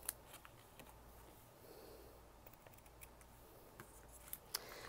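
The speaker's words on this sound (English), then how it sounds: "then I can go back in with scissors and cut it" Scissors trim a paper card for a stamping craft project, giving faint scattered snips and rustles over a low steady room hum, with no talking.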